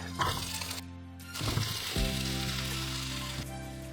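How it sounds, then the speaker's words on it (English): Vegetables sizzle in melted butter in a frying pan, a steady, close, dense crackle that runs throughout, with a sharp burst as they hit the fat and a few stirring scrapes. "adding a big piece of butter, let it melt, and now I will put all the veggies at the same time"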